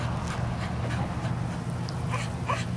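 Beagle whimpering while playing with water from a hose, giving short, high, close whines over a constant hiss of running water.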